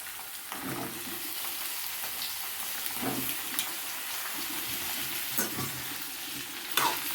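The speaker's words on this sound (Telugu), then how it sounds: "నూనెలో బాగా మగ్గించుకోవాలి వంకాయలు" Brinjal pieces and curry leaves frying in oil for a Nellore-style brinjal curry with milk, giving a steady hissing sizzle and occasional soft stirring sounds.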